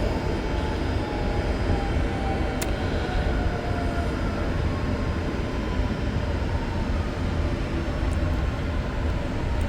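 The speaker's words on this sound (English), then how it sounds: "There's a Brossard bound train." A Brossard-bound commuter train passes on the adjacent track, a steady loud rumble and wheel roar filling the whole stretch with faint screeching tones, heard close from aboard another train.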